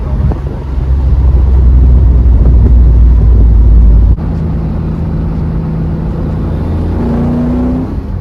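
Holden VL Group A SV's engine holds a loud, steady, deep drone, then drops to a lower, lighter note partway through, with a brief rising tone near the end and no talking.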